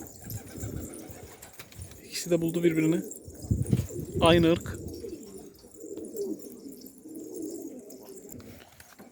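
Two yellow pigeons coo back and forth at close range, a few rolling throaty calls rising over soft background rustle, while someone talks intermittently over them.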